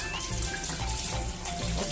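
Water runs steadily from a bathroom tap as it is adjusted to lukewarm for a face-washing routine, a constant close hiss and splash with no talking.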